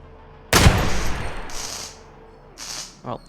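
A sharp, loud gunshot from a Receiver 2 handgun rings out and decays, followed by softer mechanical clicks and handling noises.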